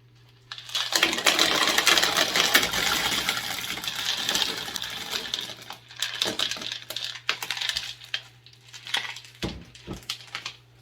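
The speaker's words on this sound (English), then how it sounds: "it was easy to shake the leca pellets out." Leca clay pellets are shaken loose from the roots of a Zygopetalum orchid, producing a dense, continuous rattling and clattering of small hard pebbles, close and fairly loud, with a few pauses and separate knocks near the end.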